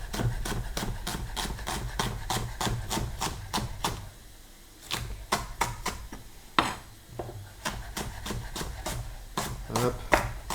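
Knife chopping sausages on a cutting board for rougail saucisse, a rapid even run of sharp, close taps, a brief pause, then the chopping resumes.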